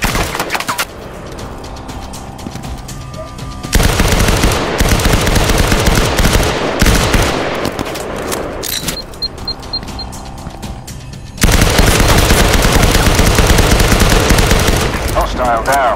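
Bursts of rapid gunfire in the VR shooter game Firewall Zero Hour, loud and dense, with quieter gaps between them and faint voices at times.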